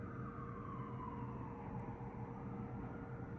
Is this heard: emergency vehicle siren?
yes